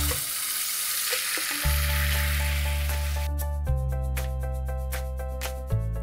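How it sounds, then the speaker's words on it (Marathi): Ground masala hits hot oil in a kadai with a broad hissing sizzle, then the frying settles into a steady crackle while tonal sounds hum along beneath it. No one speaks. "आता आपण हा मसाला तेलात घालूया।"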